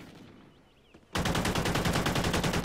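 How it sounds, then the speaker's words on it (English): Assault rifle fired in a video game, a sudden loud sustained burst of rapid automatic shots after a second of near silence, close and steady with no talk. "This gun does have a little bit of recoil on it, though."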